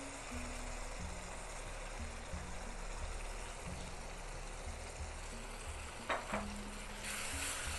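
Yogurt being stirred into softened tomato and cauliflower in a pan, a steady sizzle with intermittent scraping and stirring sounds close by and no speech.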